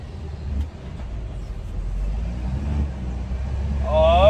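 A truck engine drones low and steady while driving, rising slightly toward the end where a faint whine comes in.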